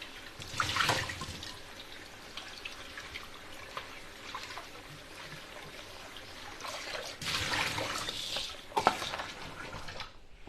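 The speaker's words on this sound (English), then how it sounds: "I'm going to give them a rinse in the sink." Mussels being rinsed under a kitchen sink tap: a steady run of water with splashing surges and shell clatter, loudest near the start and again toward the end, with no talking.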